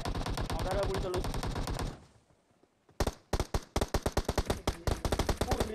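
Bursts of automatic gunfire in PUBG during a custom-match fight: a dense volley gives way to a short lull, then sharp separate shots and rapid strings of rounds, loud and close.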